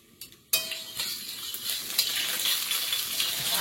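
Whole spices tempering in hot oil in a wok, a sudden loud crackling sizzle bursting in after a quiet start and holding steady, with faint stirring clinks, while Bengali dishes cook.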